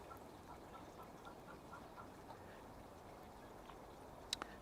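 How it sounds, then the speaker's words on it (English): Hens cackle after laying an egg in a cottage garden, a faint, distant run of repeated clucking calls under light outdoor ambience, with one sharp closer note near the end. "my chickens are announcing they've laid an egg."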